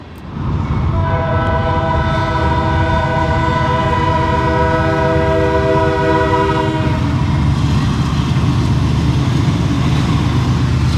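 A GEVO locomotive leads a freight train past on the Fort Worth Sub, its horn blaring loud and sustained for several seconds. The rumble and rolling wheel noise of the passing cars continue steadily underneath.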